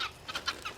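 Domestic birds cluck near a tractor in a few short, soft bursts, fairly faint and spaced irregularly across under a second.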